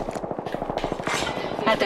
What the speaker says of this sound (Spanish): Por ahí se están pegando tiros, gente.